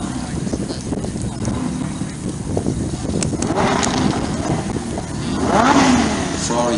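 A Jaguar XJ220S supercar passes in a supercar parade, its engine rising to a loud, revving roar as it approaches through crowd noise, with voices talking nearby.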